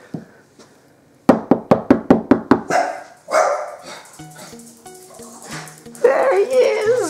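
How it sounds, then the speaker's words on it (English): A dog barks in a quick burst of about seven sharp, close barks, followed by scuffling and someone talking over more excited sounds. "Let's check up on the other dog."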